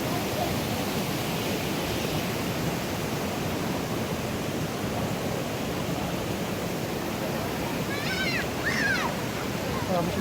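Umbrella Waterfall near Abbottabad, Pakistan, rushes in a steady, dense roar that fills the scene, with a few faint high calls briefly rising above it.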